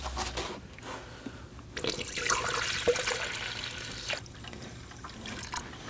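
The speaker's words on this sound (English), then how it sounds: "go ahead and fill in your radiator." Coolant poured through a funnel into the radiator of a 2011-2016 Kia Optima 2.4L, a steady close splashing trickle that swells into a heavier pour midway, with no talk.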